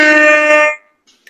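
A single loud, blaring air horn blast lasts under a second, then cuts off into silence.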